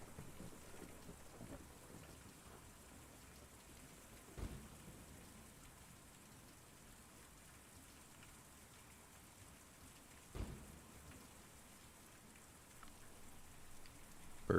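Steady rain falling in the video game Kentucky Route Zero, a soft even hiss held throughout, with two brief low thumps like distant thunder partway through.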